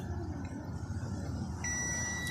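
A continuity tester's buzzer sounds during a check of an electric fan's thermal fuse, giving a steady electronic tone that holds for about two seconds and then shifts to a sharper, slightly louder beep.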